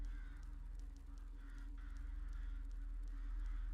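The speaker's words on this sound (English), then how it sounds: "There's crows cawing." Faint crows caw a few times in the distance over a low, steady hum.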